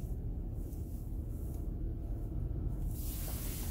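Car wash underbody spray at a Pioneer automatic car wash in Paris, a steady close rushing hiss of water with a low rumble beneath, continuous throughout without speech.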